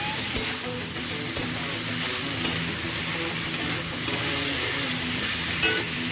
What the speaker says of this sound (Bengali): কাবলি ছোলাটা একটু ভালোভাবে মিক্স করে নিচ্ছি আলু আর মশলার সাথে